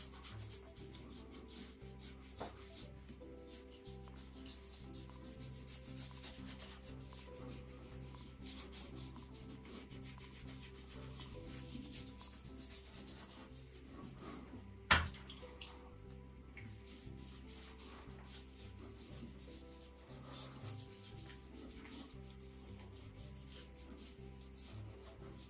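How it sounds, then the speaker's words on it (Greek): A wetted shaving soap stick rubbed and worked against skin in a wet-shaving routine, giving a quiet, steady scrubbing and squelching texture with one brief sharp knock midway; no voices. "Το σαπούνι απλώς θα το ρίξω στο νεράκι και θα το δουλέψω ως stick."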